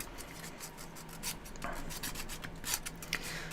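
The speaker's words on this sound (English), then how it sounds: "I am just going to go in with a bit of folded up sandpaper, just to go through the teeth" Folded sandpaper rubs through the teeth of a wooden gear, close and quiet, with repeated short rasping strokes in an uneven rhythm over a faint background hum.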